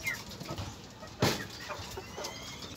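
Hens on a small backyard chicken farm cluck and cackle close by, with one sharper, louder call partway through over a busy background of scratching and low bird chatter.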